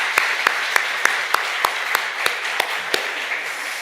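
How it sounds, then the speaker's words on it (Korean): A church congregation at a Holy Week special prayer meeting claps in a steady, evenly spaced rhythm of about a dozen sharp claps, with a broad crowd hiss underneath and no talking. "이 시간 함께 힘차게 격려의 박수를 함께 드리도록 하겠습니다"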